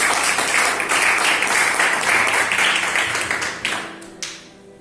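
A church congregation at an Assembleia de Deus service claps in praise, a loud, full round of applause that thins and fades toward the end with a few last scattered claps.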